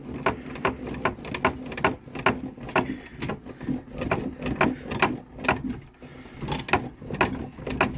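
Table saw blade cranked upward by its height-adjust wheel, a steady run of ratcheting mechanical clicks and whirring turns, close and moderately loud, with no talk.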